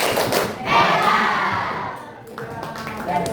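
A high-school history class in Indonesia chants a 'tepuk hebat' cheer together, a loud burst of many young voices shouting with scattered claps and thumps, swelling and fading over a few seconds.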